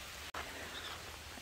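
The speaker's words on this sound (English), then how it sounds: "it's raining out here" Rain falls steadily outdoors at the historic Quli Qutub Shah dynasty tombs, a soft, even hiss that holds through the clip apart from one very brief dropout.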